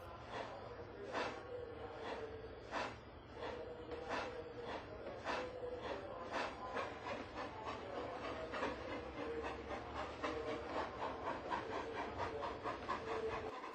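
Eric, a steam engine, pulls away with a steady run of rhythmic chuffs that quickens slightly, the pulses evenly spaced and moderately loud.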